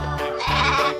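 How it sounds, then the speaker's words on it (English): A single sheep bleats once, a short wavering baa heard close and clear. "Sheep."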